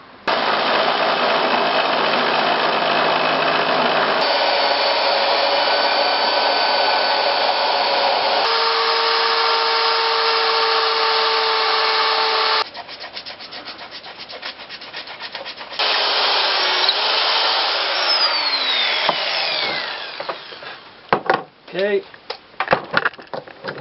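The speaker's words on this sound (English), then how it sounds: "then router all the way around, so that way I can put the rope to run around in" A router cuts around a wooden circle being shaped into a pulley, giving a loud, steady high whine that changes pitch across several passes, then spins down into scattered knocks and rattles.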